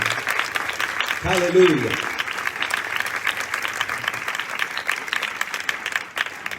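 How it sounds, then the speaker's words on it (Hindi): A church congregation at a sermon in Faisalabad breaks into loud, sustained applause, with a single voice calling out briefly over the clapping. "जोरदार तालियां यीशु के लिए बजाइए"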